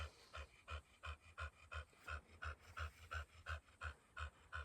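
A dog pants rhythmically up close, with around fifteen quick, even breaths in a steady cycle, heard quietly and alone.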